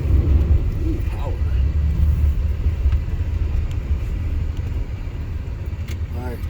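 A 2003 Pontiac Grand Am GT with 177,000 miles on it, its engine a steady low rumble as it accelerates on a test drive, heard from inside the cabin with no talk.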